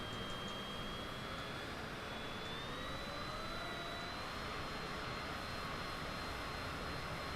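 A small airplane at an air show drones steadily overhead, a faint, distant engine hum whose pitch slowly rises as it comes around.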